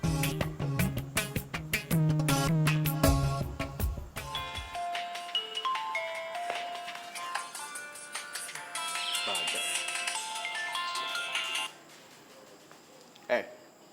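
A phone rings on an outgoing call: a melodic electronic ringing pattern, moderately loud, after a stretch of music.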